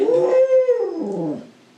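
A dog lets out a single close, loud howl that rises and holds a long wavering tone, then slides downward and fades into a soft whimpering trail.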